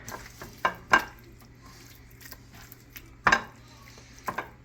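Steak and potatoes being stirred in a frying pan, with a faint sizzle under a few scattered utensil clinks and scrapes against the pan, spaced apart and fairly close.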